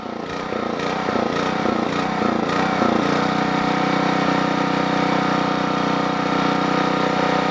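Generac 8838-0 generator engine running with the choke fully open, a loud, close, continuous drone that is slightly uneven at first and then settles into a steady hum.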